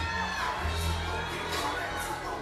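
Over a thousand spectators cheer and shout inside an indoor FIBA 3x3 basketball arena after a game-tying shot, a loud continuous roar of voices with whoops and higher children's shouts.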